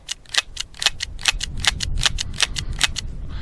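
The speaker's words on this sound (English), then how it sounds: "I'm going to dry fire this with those 5 same cases." Crisp, regular metallic clicks from a Charter Arms Bulldog .44 Special revolver being dry fired with spent cases loaded, the hammer and cylinder snapping at a steady pace, close and clear with no talking.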